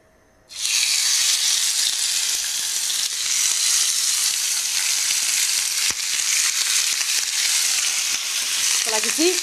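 Loud, steady sizzling of lamb souvlaki meat in a hot grill pan with olive oil, a continuous close hiss that starts abruptly and holds throughout with small crackles.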